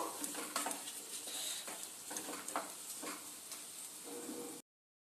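Nuts and poppy seed paste being sautéed in a pan, with a close, continuous sizzle broken by scraping stirs from a spoon against the pan, cutting off abruptly near the end, no talking.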